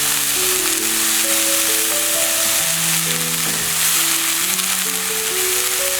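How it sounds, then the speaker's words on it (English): Onion paste fries in hot ghee with a steady, close sizzle throughout, while soft background music plays over it. "So you can fry the onion up to 5 minutes"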